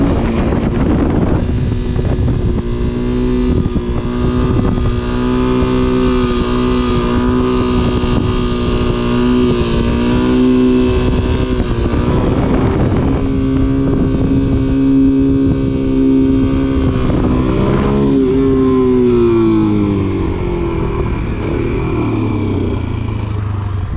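Motorcycle engine held loud and steady, pulling hard in second gear for a wheelie with the clutch, with wind buffeting the microphone; the pitch drops near the end as the bike settles back down.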